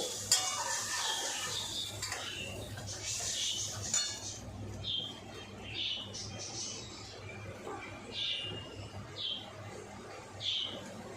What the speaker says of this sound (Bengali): টমেটোটাও দিয়ে দিচ্ছি ভালো করে কষে নেব